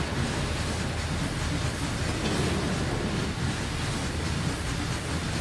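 A GP40-2 diesel locomotive in a train simulator game shoves back uphill, giving a dense, loud, unbroken engine drone and rumble that holds steady throughout with no talking.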